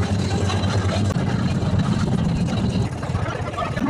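The engine of the Sea Ashtamudi tour boat drones loud and steady at close range, a continuous low rumble with water and wind noise layered over it.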